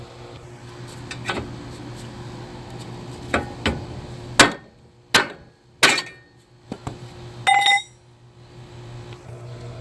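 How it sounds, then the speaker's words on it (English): Hammer blows strike the end of a Kia Soul CV axle: several sharp metallic impacts, a few light taps and then harder spaced hits, ringing briefly over a low steady hum. "So then we just kind of hit this end with a lot of force."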